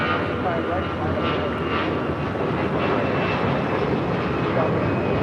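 A large airliner roars steadily on its takeoff roll from runway 25 right at LAX, a loud continuous engine rumble that holds strong and unbroken throughout.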